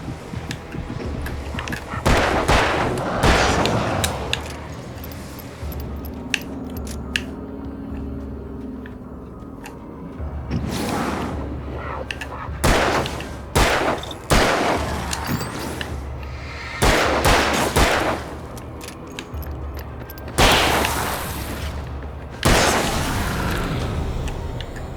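Revolver gunfire in the dark action game Alan Wake, a series of loud sharp shots in uneven clusters over a low rumbling game soundscape.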